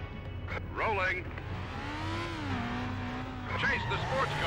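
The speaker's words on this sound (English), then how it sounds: "Chase the sports car. Get close to the oncoming car. Get close on the left and overtake." A sports car in the Stuntman video game: an engine drone that revs up and falls back, with brief tire squeal, running quietly under continuous talking.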